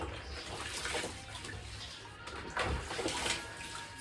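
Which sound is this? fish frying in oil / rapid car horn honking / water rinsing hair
water rinsing hair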